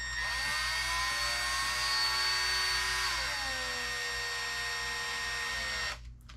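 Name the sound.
cordless power driver tightening shock parts on Traxxas Maxx V2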